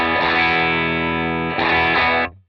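Electric guitar through a REVV tube amp with 121 and SR25 cabinet impulses blended, sounding a sustained distorted chord, then a second struck chord ringing before cutting off abruptly, loud and close.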